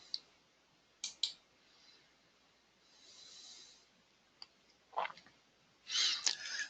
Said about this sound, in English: Hit enter on your keyboard, double click it